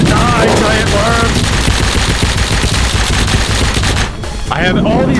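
Sustained rapid automatic gunfire in a video game boss fight against a giant worm, loud and continuous with dense overlapping bursts, briefly dropping off near the end before a voice cuts in.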